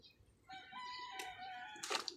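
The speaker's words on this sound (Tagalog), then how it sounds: "Bahay-bahayan ng manok." Rooster crowing at a chicken coop, one drawn-out cock-a-doodle-doo rising over soft low background noise, close and clear, ending with a brief burst of clucking, no voices.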